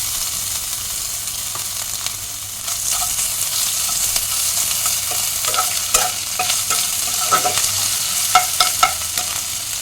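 Ginger paste fries in a hot pan with a bay leaf, a continuous sizzle broken by repeated close scraping strokes of a stirring spoon that grow busier toward the end.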